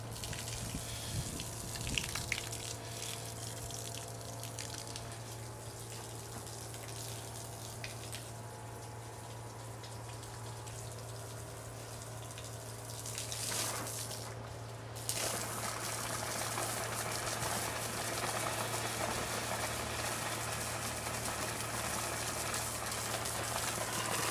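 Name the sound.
water flushing through old Jeep heater core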